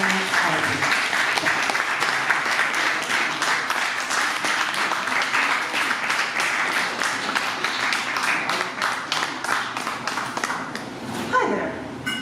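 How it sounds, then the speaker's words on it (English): Applause at a poetry show for feature poet Janet Kuypers, a dense, steady round of clapping from the audience that keeps going for several seconds before a brief shuffle near the end. "Y'all clap it up for our feature poet tonight, Janet Kuypers"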